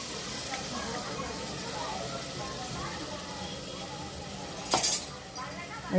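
Ground masala is sautéed and stirred in oil in a pan, giving a soft, continuous sizzle with a few metal clinks and scrapes near the end.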